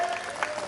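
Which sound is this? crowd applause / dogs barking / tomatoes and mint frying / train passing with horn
crowd applause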